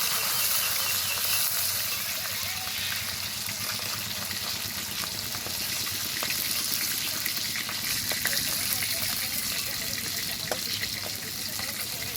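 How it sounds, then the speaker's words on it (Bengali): Hilsa fish frying in hot oil for shorshe ilish, a steady dense sizzle with a continuous crackling hiss throughout, close and fairly loud. "ভেজে নেব। এরকম মাছগুলো সব ভেজে নিয়েছি।"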